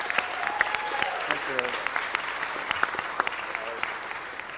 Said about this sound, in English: please give all of these honorees a round of applause